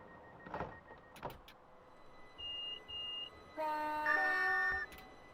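A North London Line train pulls out of Camden Road station in London: two short door warning tones sound, then rising electric motor whines swell and fade over faint cabin rumble, with no talking.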